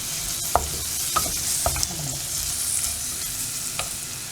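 Chopped onions and garlic sauteing in a pan for a Tamil-style rajma kuzhambu, a steady close sizzle broken by several sharp scrapes and clinks of a spoon stirring.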